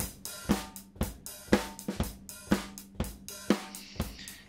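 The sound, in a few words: audio through Logical 3 compressor plugin, aggressive compression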